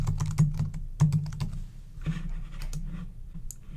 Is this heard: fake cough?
no